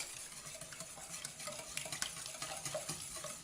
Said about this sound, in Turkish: Ve muhallebim pişene kadar bu şekilde karıştırıyorum